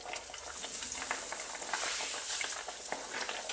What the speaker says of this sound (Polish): więc smażymy kromeczki